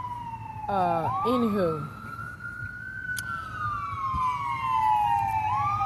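An emergency vehicle siren wails in the distance, a long rising and falling tone sweeping slowly, with a brief burst of faster yelping near the start and someone speaking briefly over it.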